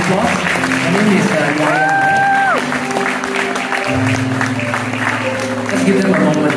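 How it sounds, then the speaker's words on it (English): Wedding guests applauding a Filipina nanny at a Singaporean bride's wedding: steady clapping from a crowd mixed with voices and a brief tonal sound, continuous throughout. "Can you give her a round of applause?"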